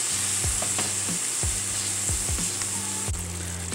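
Tomato masala sizzling and frying in a pan, with a utensil stirring through it in repeated scraping strokes roughly every half second over a steady bright hiss; no voices.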